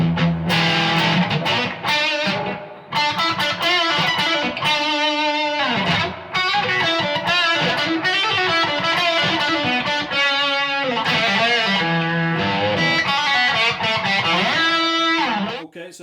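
Distorted electric guitar through the clean channel of a Suhr Riot pedal, middle switch position, playing loud, sustained chords and riffs continuously with brief dips, no talking.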